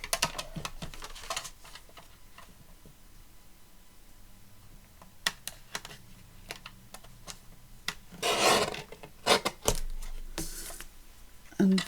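Paper is cut from a journal pad, trimming a ragged edge near a marked line, with scattered light rubbing and tapping handling sounds and a louder rasping cut burst toward the end.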